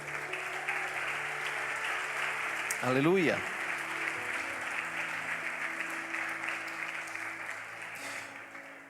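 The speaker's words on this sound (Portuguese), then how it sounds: "aplauda mais uma vez" Churchgoers at an evangelical service applaud in a continuous, moderately loud patter while a voice briefly calls out over the clapping.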